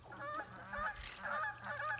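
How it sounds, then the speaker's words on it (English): Canada geese honk repeatedly near a lake where a canoe drifts, their nasal calls arriving in uneven clusters at a moderate distance over calm, quiet water. "with the accompaniment of Canadian geese"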